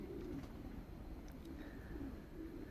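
Soft, low racing pigeon coos repeat in short phrases against a constant hum of background noise.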